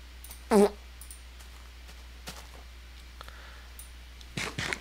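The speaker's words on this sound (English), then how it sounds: "Why are they farting at me?" Short creature farts in a Minecraft modpack, one loud burst near the start followed by faint clicks and a couple of later rustling bursts, with no talking.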